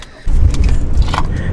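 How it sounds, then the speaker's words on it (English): Someone climbs into a car with a close rustle and thump of movement, keys jangling loudly throughout. "I'm just gonna get into the car."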